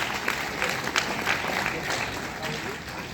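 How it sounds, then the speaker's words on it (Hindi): An audience at a district awards ceremony gives children a round of applause: continuous, fairly close clapping with a few sharper claps standing out, holding steady for about three seconds. "बच्चों का एक बार जोरदार तालियों से अभिनंदन होना चाहिए।"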